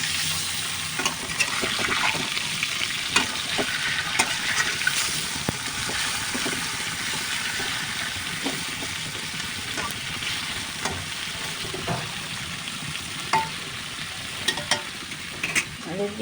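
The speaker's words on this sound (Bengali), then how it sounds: "মাছ এই পাশ ভাজা হয়ে গেছে। এবার আমি একটু উল্টে দিচ্ছি।" Fish pieces that have just been turned over crackle in hot oil in a wok. The dense, steady sizzle is close and fairly loud, with frequent small pops and utensil taps.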